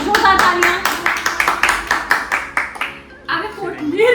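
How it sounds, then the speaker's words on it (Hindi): A few people clap during a pani puri eating challenge, a loud, close run of rhythmic claps at a steady beat that stops near the end as voices and chatter take over. "इसके लिए तालियां, जोरदार तालियां"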